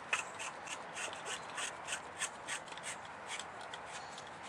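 A PVC male adapter is threaded by hand into a sump pump, a soft rhythmic plastic rubbing and scraping with repeated short turns, close and quiet.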